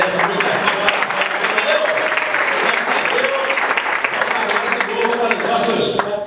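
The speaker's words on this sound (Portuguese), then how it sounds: "mais palmas para ele que ele merece. Muitas palmas." A TV studio audience claps in a thick, continuous wash of applause with no gaps, and voices are mixed in underneath.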